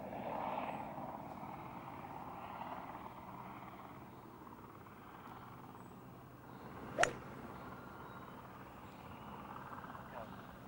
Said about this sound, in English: Helicopter past there. Might have been a twin squirrel.